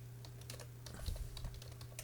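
Faint, quick typing on a computer keyboard, with a rapid patter of soft key clicks over a low background hum.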